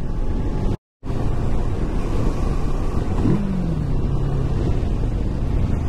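Kawasaki Versys motorcycle engine while riding, a steady loud drone mixed with heavy wind rush, with a brief dropout near the start and a rising then falling engine pitch partway through.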